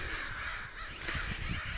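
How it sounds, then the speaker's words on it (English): Crows cawing steadily with magpies chattering in a spring setting near train tracks and waterways, a busy, continuous chorus of calls at moderate distance with a few louder caws standing out. "a murder of crows and a parliament of magpies going on."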